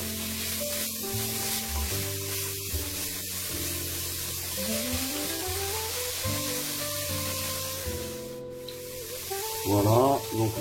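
Chopped onion sizzling and frying in a pan as it turns translucent, a steady hiss under French talk, with a brief stir near the end.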